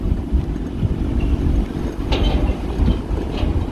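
An empty utility trailer towed on a dirt road at about 15 to 20 mph, a continuous low rumbling road and rolling noise with faint rattles, close and steady with no talking.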